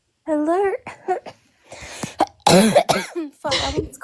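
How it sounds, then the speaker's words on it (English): A person coughs repeatedly in short, harsh bursts during an online discussion stream, with throat clearing and a few brief voiced sounds between the coughs, all close to the microphone. "I want this cough to go away."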